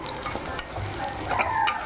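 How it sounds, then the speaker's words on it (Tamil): Raw banana pieces fry in two tablespoons of groundnut oil in a pan, giving a soft, close, steady sizzle with faint stirring scrapes and no talk. "2 டேபிள் ஸ்பூன் கடலை எண்ணெய் ஊற்றி அதுலேயே போட்டு பொரிக்கிறேன்"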